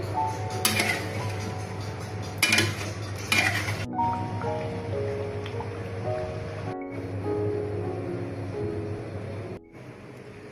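A spoon clinks and scrapes in a pot of beef nehari as flour-water is stirred into the gravy, with a few sharp metallic knocks early on followed by softer stirring over a steady background hum.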